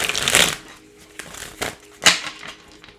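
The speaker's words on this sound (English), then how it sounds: "I'm gonna shuffle these and get these out the way." Tarot cards are shuffled by hand in a few quick, close riffling bursts with short pauses between them.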